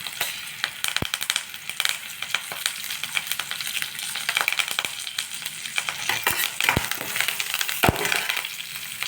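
Curry leaves and spice powder sautéing in a pan for lemon rice, a dense continuous sizzle packed with rapid scraping and crackling stir hits, close and loud with no voices.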